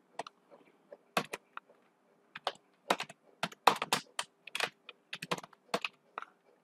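Quiet, irregular bursts of keystrokes on a computer keyboard as text is typed, with short pauses between clusters of taps and no speech.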